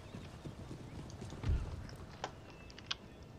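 Horses' hooves clip-clopping in the strategy game Darthmod Empire, a faint, scattered patter of soft hoof steps with a few sharper clicks and a muffled thump, quiet and distant with no speech.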